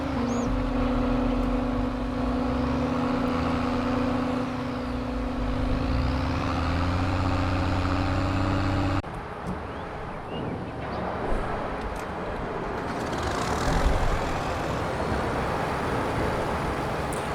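Farming Simulator 22 tractor engine running steadily with a loud, continuous drone and a harmonic whine that shifts pitch, then changes to a rougher, noisier rumble partway through; no talking.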